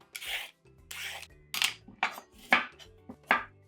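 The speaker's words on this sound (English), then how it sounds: "Peel this carrot." A carrot peeled with a peeler in a home kitchen, a series of about six quick, close scraping strokes in an uneven rhythm, each a short rasping swipe separated by brief gaps, with no talking.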